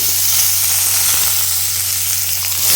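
Curry leaves and asafoetida hit spluttering mustard seeds in hot oil, giving a loud, steady sizzle and hiss with a few faint pops, no voices.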